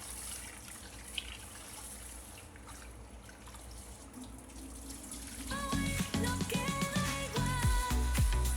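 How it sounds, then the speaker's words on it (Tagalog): Tap water runs into a container while water is fetched for cooking rice, starting soft amid faint background noise, then becoming a louder, splashing pour with clinking in the second half. "Kuha tayo ng tubig mga bikers para sa ating sinaing."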